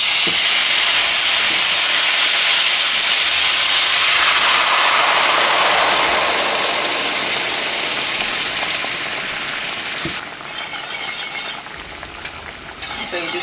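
Stock poured into a hot pan after cooking chicken erupts in a loud, dense sizzle and steamy hiss that gradually settles, with whisking and stirring scrapes toward the end.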